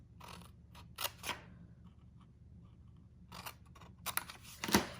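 Quiet snips and rustles of paper being cut, a few sharp clicks in two clusters separated by a near-silent pause.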